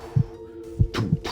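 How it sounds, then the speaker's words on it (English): Heartbeat sound effect, low thudding beats in pairs at a slow steady rhythm, close and prominent over a faint hum. "And your hearts are just thudding"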